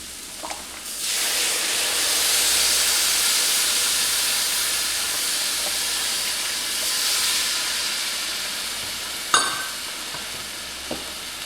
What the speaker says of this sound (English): Now we are going to add in 2 cups of beef broth.